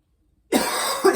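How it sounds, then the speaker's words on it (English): Silence first, then a single person coughs twice close up, a rough throat-clearing burst followed by a second short cough. "Sorry about the cough."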